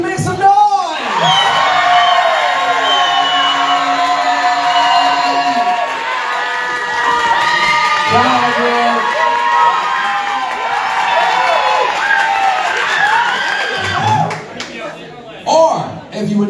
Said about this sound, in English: if you want to see Connie Noah in the top two, make some noise!